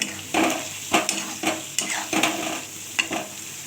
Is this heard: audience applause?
no